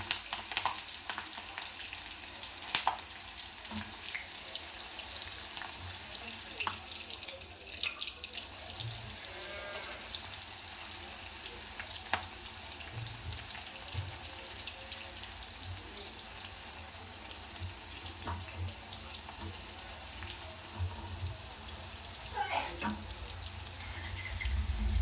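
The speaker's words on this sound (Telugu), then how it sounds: "అది మీద గిలుతుందండి ఆయిల్, కాస్త జాగ్రత్తగా వేయించుకోండి పచ్చిమిర్చి." Green chillies frying in hot oil for chicken pakodi, a steady close sizzle with faint crackles and occasional stirring clicks throughout, alone and without voices.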